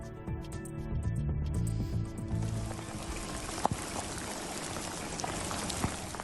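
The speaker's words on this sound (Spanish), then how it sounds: "nos dejaba granizadas como esta en La Jeria, en Lanzarote" Hail pelts down in La Jeria, Lanzarote, a dense rattling hiss of ice pellets on ground and surfaces with a few sharper impacts standing out.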